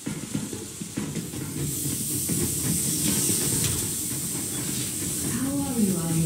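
Steam locomotive in the post-apocalyptic game Metro Exodus giving off a steady, loud hiss of steam over a low rumble, with a voice talking faintly in the background.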